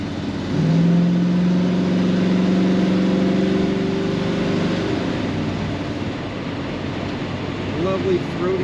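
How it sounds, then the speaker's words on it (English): A 1966 Chevrolet Impala Wagon's engine rumbles with a throaty exhaust note, revving up near the start, holding a steady drone for several seconds, then easing back to a lower idle-like murmur. "lovely throaty exhaust note from this car"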